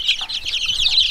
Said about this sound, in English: we need some help identifying some of these chickens